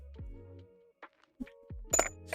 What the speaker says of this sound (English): These are glass sounds, but they sound like ice or sound like metal